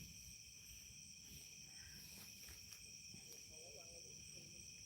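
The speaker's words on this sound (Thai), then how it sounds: "ได้ยินเสียงก็คล้ายแบบจิ้งหรีด" Crickets chirp steadily at night in a forest, a continuous high trilling drone that is quiet and distant, with faint rustling beneath.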